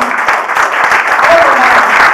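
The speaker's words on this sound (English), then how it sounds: "we want to give a clap for all our mamas" An audience at a church gathering in Sharjah claps for mothers, loud sustained applause filling the room with dense overlapping hand claps and a few scattered voices mixed in.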